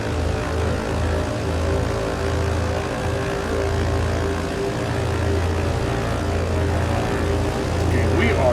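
Britten-Norman BN-2 Islander twin propeller engines spooling up in a flight simulator, a steady loud droning engine hum with a low pulsing throb that holds constant throughout, no voices.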